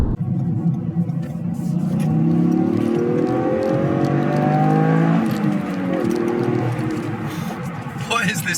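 A Toyota GR Yaris engine drones and rises in pitch as it accelerates, a steady revving rumble heard from inside, with a faint rattle near the end.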